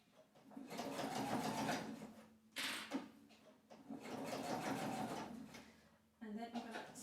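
A sewing machine stitches a fabric sling bag in close, steady runs of rapid needle whirring, broken by short pauses and a brief clunk between bursts.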